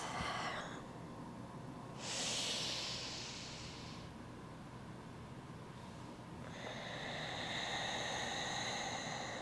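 Slow, exaggerated breaths during a yoga flow, long hissy inhales and exhales alternating over about ten seconds, close and steady with no talking.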